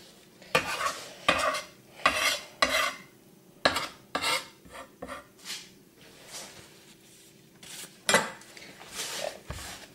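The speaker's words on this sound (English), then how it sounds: "first we're going to remove the scales from the chopping board again" A paper kitchen towel wipes slimy salmon scales off a chopping board, making repeated scrubbing and scraping strokes in short bursts, fairly close and moderately loud, with some light clatter between strokes and no voices.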